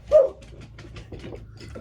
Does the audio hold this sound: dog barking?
yes